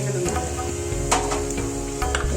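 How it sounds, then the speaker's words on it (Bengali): Garlic stirred through hot oil with onions already reddened, for vegetable kochuri: a steady close sizzle with scraping stir strokes across the pan, no talking. "রসুনটা একটু নেড়ে চেড়ে"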